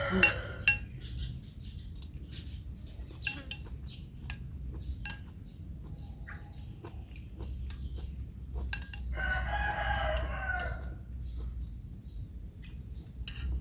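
Rooster crowing outdoors in a small garden in rural Thailand, a few faint distant crows rising over steady low background hum with scattered clinks.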